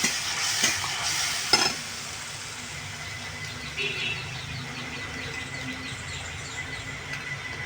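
Onion paste frying in a pan is stirred for a curry of ripe jackfruit fibres. Spoon scrapes clatter briefly at first, then a steady, moderate sizzle hisses on with faint occasional stirring.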